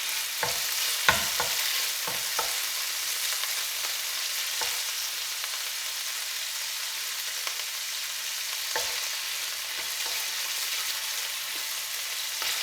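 Garlic and pancetta frying in a pan give a steady broadband sizzle, with a few sharp stirring clicks near the start and scattered later, and no voices.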